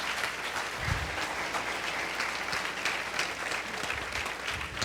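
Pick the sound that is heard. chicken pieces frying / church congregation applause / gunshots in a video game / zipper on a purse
church congregation applause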